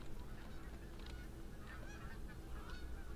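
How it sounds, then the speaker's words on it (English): Geese honk repeatedly at a distance outdoors, their calls rising over a steady low rumble of background noise, with no talking. "I hear some geese."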